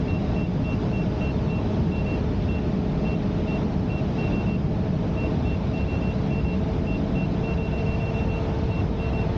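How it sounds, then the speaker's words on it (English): Repeated short speed-warning beeps in the helmet while riding a Sherman S electric unicycle on original firmware, a steady chain of clipped tones over a constant dense roar of wind and motor noise. "Push it past the first helmet beeps."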